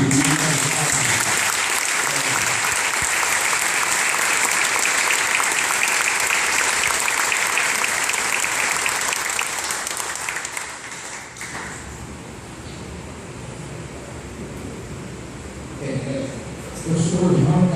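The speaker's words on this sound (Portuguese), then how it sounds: "pedir uma grande salva de palmas para o mestre Júlio Alfini" A large audience bursts into sustained applause for Mestre Júlio Alfini at a farewell tribute to a capoeira master. The clapping is loud and dense for about eleven seconds, then drops to a quieter murmur before a brief swell near the end.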